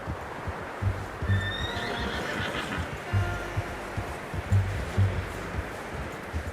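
A horse in the video game Red Dead Redemption 2 whinnies loudly over a steady background of ambient noise, with soft hoof thuds scattered through the clip.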